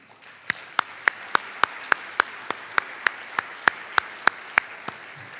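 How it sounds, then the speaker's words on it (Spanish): A few people clap in a sparse, evenly spaced rhythm at a talk event, about a dozen sharp distinct claps over quiet background hiss. "Pido un gran aplauso para Pilar Molina."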